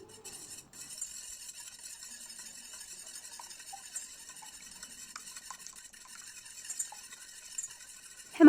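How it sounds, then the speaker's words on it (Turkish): Two eggs are whisked in a mixing bowl with steady, fast clinking and scraping, bright and fairly close. A louder clatter comes near the end, and there are no voices. "Güzelce çırpmaya devam edeceğim."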